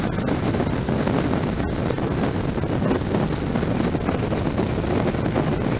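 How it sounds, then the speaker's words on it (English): Steady, loud wind buffeting across the microphone while riding a 1981 Honda CB750C motorcycle into a headwind, a constant broadband rush with no pauses. "Right now it's a little windy."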